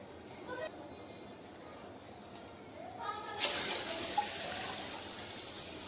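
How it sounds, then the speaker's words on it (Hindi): Water gushes and splashes steadily into a pressure cooker, starting partway through and growing louder, with a faint background hiss before it. "और इसके अंदर मैं मज़ीद पानी शामिल करूँगी।"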